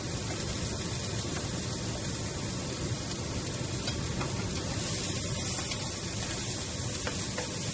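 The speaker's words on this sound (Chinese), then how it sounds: "逐樣炒香佢" Dried shrimp and cured meats stir-frying in a wok for sticky rice, a continuous close hiss and sizzle with faint scraping, no voices.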